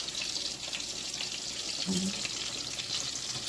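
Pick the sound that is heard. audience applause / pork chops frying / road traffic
pork chops frying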